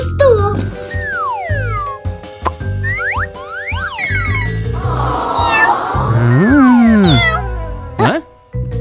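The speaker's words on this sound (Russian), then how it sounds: "Кто сказал мяу?" A cartoon cat meows repeatedly in loud, sliding, exaggerated cries, mixed with springy cartoon effects and music.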